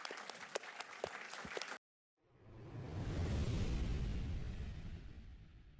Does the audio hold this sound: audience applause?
yes